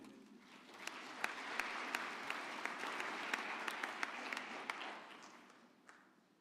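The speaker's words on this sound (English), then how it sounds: "I believe Professor Dondolo deserves another round of applause" A university graduation ceremony audience applauds a professor after a speech, with sustained crowd clapping at a moderate distance that swells and then fades.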